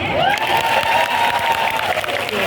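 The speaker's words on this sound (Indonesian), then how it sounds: "Minta tepuk tangannya." A lively outdoor crowd at a town-square religious gathering for the Prophet's birthday claps and cheers continuously, with shouting voices and a sustained whistle-like tone riding over the applause.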